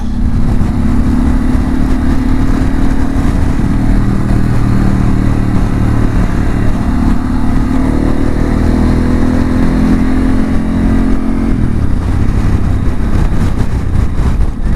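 Heavy wind roar while riding a motorcycle on open country roads, constant and loud, blended with the steady drone of the engine throughout, no talking.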